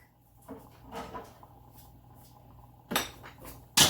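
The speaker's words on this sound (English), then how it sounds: "Oh, I'm dropping everything" A spoon and other utensils drop and clatter in a home kitchen during sauce making. Two sharp metallic crashes stand out against a quiet background, the second louder and closer.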